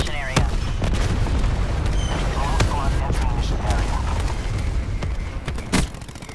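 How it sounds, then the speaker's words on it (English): Explosions rumble from a cluster grenade in Call of Duty: Black Ops 4, a dense series of heavy booms and sharp cracks over a constant low battle roar, with a voice speaking over it. "Cluster grenade going out."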